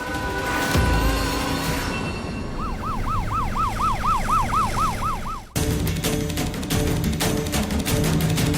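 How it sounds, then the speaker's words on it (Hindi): An ambulance siren wails in a fast rising-and-falling pattern, repeating many cycles in the middle of the stretch over steady traffic rumble, then cuts abruptly into a continuing vehicle drone. "एम्बुलेंस!"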